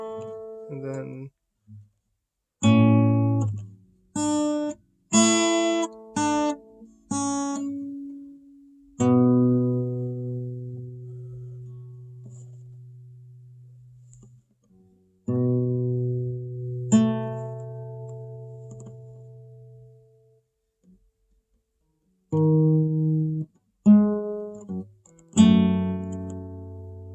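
Piano practice of a piece, played haltingly as isolated notes and short phrases, some held tones, separated by frequent pauses.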